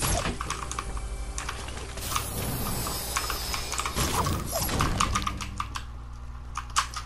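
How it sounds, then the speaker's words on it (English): Rapid clacking on a computer keyboard, dense overlapping keystrokes close up and fairly loud, running continuously with a few sharper isolated taps. "I wonder how loud the keyboard is"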